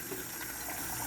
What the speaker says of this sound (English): I think I might just add just a little bit more water.